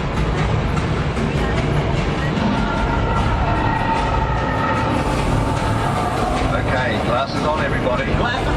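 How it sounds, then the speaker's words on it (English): Universal Studios Hollywood tram rolling along a rough, narrow trail, giving a steady, loud rumble with rail-like clatter while a voice talks over it. "The Universal Tram is winding its way through a very rough, narrow trail."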